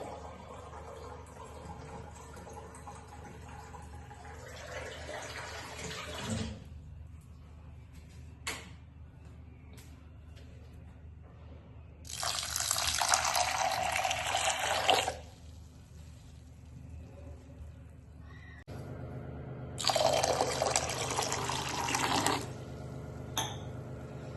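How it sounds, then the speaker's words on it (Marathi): Water is poured into washed dal in a pot for cooking Maharashtrian varan bhat, two separate steady splashing pours of a few seconds each, close and fairly loud over quiet kitchen background. "आता आपण ह्याच्यामध्ये शिजायसाठी पाणी घालून घेऊया."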